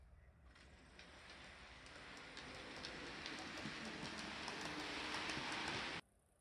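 A model railway train at an exhibition layout pulls away, a steady rolling rumble with faint clicks that gradually builds in loudness over several seconds before cutting off abruptly.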